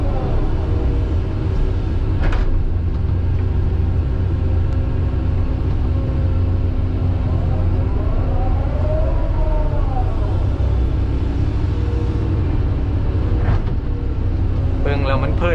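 A Komatsu PC-200 excavator digs soil, its engine droning steadily and loudly throughout, with hydraulic whines rising and falling and occasional metallic clanks, while someone talks over it.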